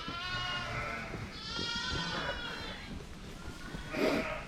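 First-time ewes bleat at close range in a lambing pen, with several wavering calls overlapping against a low background rumble and one louder cry near the end.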